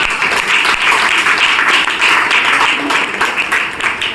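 Students applaud at a women's institution farewell party, a dense, steady wash of many hands clapping loudly and continuously for several seconds without a break.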